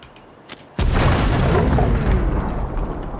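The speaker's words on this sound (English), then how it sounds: "Well, that's a grenade." A grenade goes off in the video game Avowed: a small pop, then a sudden heavy boom that rolls into a long, loud rumbling blast filling the rest of the moment.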